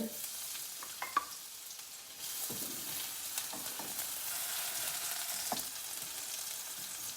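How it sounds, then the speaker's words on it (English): Loud, steady sizzling of beef frying in a hot pan for beef and broccoli, with a few clinks and scrapes of stirring over the continuous hiss. "It's going to sizzle right away."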